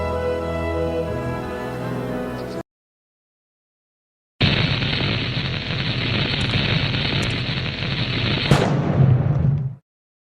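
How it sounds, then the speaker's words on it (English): In the adventure game The Abbey, a small blast breaks open a lock with a wine-soaked wick. A short stretch of tonal music, then silence, then a loud, rough burst of roaring noise that lasts several seconds before cutting off. "A small explosion, but enough to blast the lock apart."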